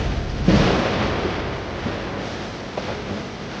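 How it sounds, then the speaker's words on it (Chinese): A thunder-like sword-energy sound effect from a wuxia period drama: a sudden rumbling crack followed by a sustained low roar, with a few smaller thuds trailing after. "师傅，打雷了，马上要下雨了"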